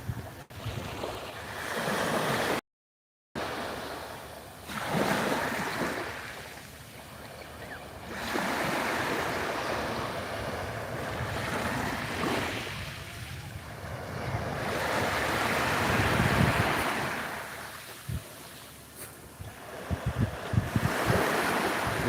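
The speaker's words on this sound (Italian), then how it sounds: "Allora vi faccio ascoltare un po' il suono del mare." Sicilian sea waves surge and wash in long swells near the shore, loud and continuous, with gusts of wind buffeting the microphone and no talking.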